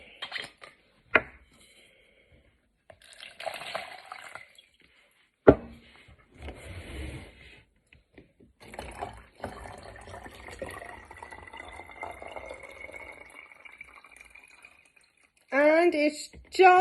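Water is poured into plastic bottles one after another, with a long gurgling fill that rises steadily in pitch as a bottle tops up, among intermittent knocks and handling clatter, with speech in between.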